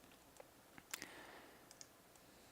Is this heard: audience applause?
no